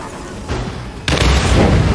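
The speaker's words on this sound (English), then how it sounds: "Now I'll do an airstrike." Airstrike explosions in the video game Second Extinction: a loud booming blast followed by a second, heavier roaring detonation that sustains a thick rumble.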